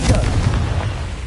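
A Confringo fire spell explodes in Hogwarts Legacy, a loud booming blast with a dense low rumble that holds steady through the moment.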